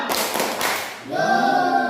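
A school class gives a short rhythmic salute clap, a quick burst of several claps from a group of students that cuts off into a sustained tonal hum.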